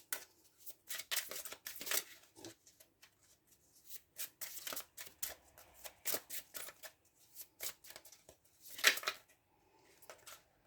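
Tarot cards of a white witch's magic deck riffling and shuffling in quick papery bursts, soft and close, with a longer flurry near the end and no talking.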